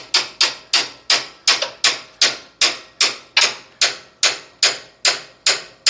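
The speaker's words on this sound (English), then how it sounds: "It's not my hammer, but it is a hammer, and it will work." A borrowed hammer taps a part down on a Brunswick A2 bowling pinsetter during service, about fourteen sharp, close metallic knocks in a steady, even rhythm with no talking.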